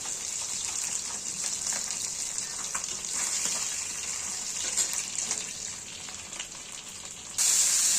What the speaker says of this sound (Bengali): বাকি মাছগুলো যেগুলো ছিল সেগুলো আমরা এইভাবে দিয়ে ভেজে তুলে নেব